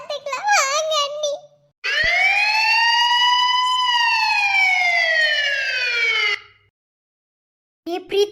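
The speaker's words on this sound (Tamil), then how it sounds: "பிரீத்தி வாடி, ஆம்புலன்ஸ் வந்துருச்சு வாடி." An arriving ambulance sounds one loud, sweeping siren wail for several seconds, with voices speaking just before and after it.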